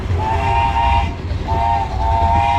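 An amusement park ride train at Little Amerricka in Marshall, Wisconsin rumbles along while its whistle sounds two loud, steady blasts over the low rolling noise of the cars.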